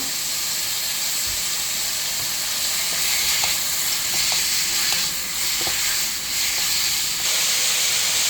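Beef stir-frying in olive and sesame oil with garlic for spicy yukgaejang: a steady, loud oily sizzle and hiss throughout, with faint clicks of stirring over the pan and no talking.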